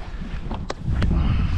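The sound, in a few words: cold wind blowing on a trekking route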